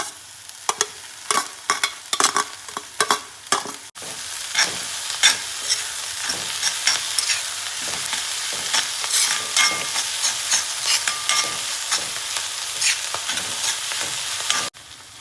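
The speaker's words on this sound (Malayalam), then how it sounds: "അരിഞ്ഞു വെച്ചിരിക്കുന്ന ചീര മുഴുവനായി ഇതിൽ ചേർത്ത് കൊടുക്കാം" Chopped amaranth greens are stir-fried with shallots and garlic, giving a steady sizzle punctuated by repeated sharp spatula clacks and scrapes against the pan, close and alone without talk.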